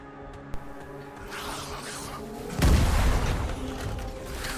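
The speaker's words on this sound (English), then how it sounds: "A lot of the enemies can be one-shotted with the rocket launcher" Rocket launcher explosions in a video game, a sharp click followed by a deep booming blast that swells mid-clip and rumbles on, over continuous game background noise.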